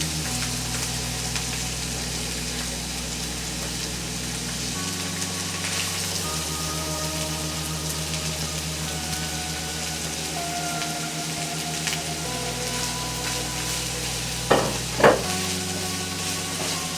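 Onions, garlic and poblano peppers cook in melted butter for shrimp tacos gobernador, giving a steady, moderate sizzle with stirring scrapes over a low hum and a couple of brief louder knocks near the end.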